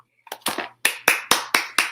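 A few people clap hands for a short burst of applause after practicing the ASL alphabet, with about six or seven sharp, evenly spaced claps rising to a steady rhythm, close and fairly loud.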